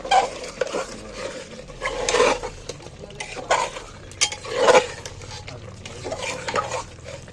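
Chicken stir-fried with salt and tomato in a pan, with repeated scraping and clinking spatula strokes over a low sizzle, close, uneven in rhythm.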